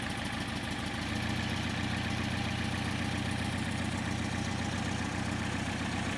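A Porsche 356 engine fitted with Solex 40P11 carburetors idles steadily up close, a continuous, even, loud mechanical drone with a faint rhythmic pulse and no talking.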